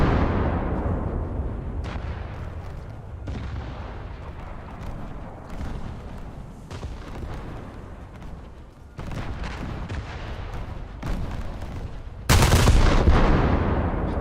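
Naval guns firing in a warship video game, a string of heavy booming shots over a steady low rumble of engines and sea, with one very loud, close blast near the end.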